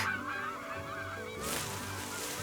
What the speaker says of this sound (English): "Honk, honk," cried the geese.